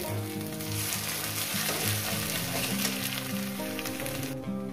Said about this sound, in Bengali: আরও 2 মিনিট কি 3 মিনিট এটাকে আমি ভেজে নেব।